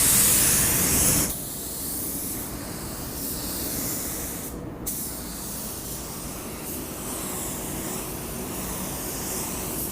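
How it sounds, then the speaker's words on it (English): A Harbor Freight Black Widow HTE 2.0 spray gun blows air in a steady, loud, close hiss that holds for the full length after a brief stronger opening burst. "Blow off a little air here."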